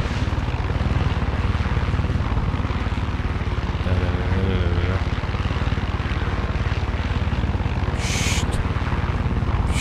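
A helicopter in the video game Far Cry 6 drones steadily with a loud, continuous rotor and engine roar throughout, while a voice briefly whispers partway through.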